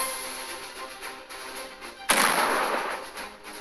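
A single heavy cannon-like blast from a tank firing in a mobile video game, sharp and loud with a booming tail, over steady game background sound.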